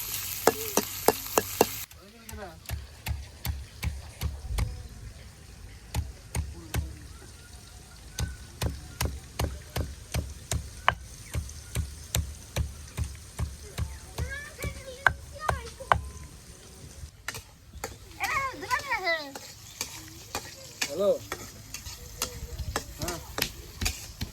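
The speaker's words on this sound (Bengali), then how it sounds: "পেঁয়াজ কাঁচামরিচটা ভালোভাবে বেজা নেই" Onion and green chilies fry in oil in a village kitchen, a sizzle under repeated rhythmic scraping strokes of a spatula against the pan, with someone talking over it in places.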